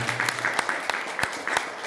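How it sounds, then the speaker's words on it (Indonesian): Audience clapping at an indoor motivational training session, a scattered round of claps with sharp individual hits spread across the whole stretch, moderately loud and alone without talk. "Tepuk tangan dulu ya semuanya."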